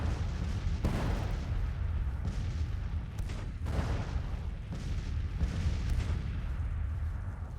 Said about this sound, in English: So, Pendleton's artillery, though, is able to come into position.